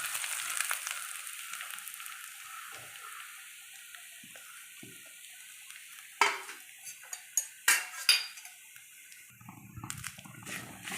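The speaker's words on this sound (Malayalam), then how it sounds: "ഈ എണ്ണയിലേക്ക് നമുക്കിനി തേങ്ങ ഇട്ട് കൊടുക്കാം" Grated coconut fries in oil in a pan for roasted-coconut sambar with a soft, quiet sizzle. Several sharp clinks of a spoon or utensil against the pan break in near the end.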